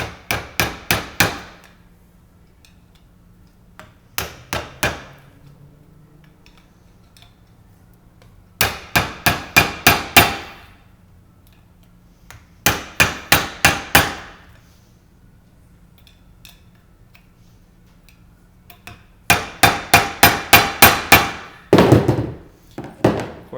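Steel crown race tapped down onto a scooter fork with a hammer: bursts of three to six sharp metallic clangs separated by pauses, close and loud, with a faint low hum underneath.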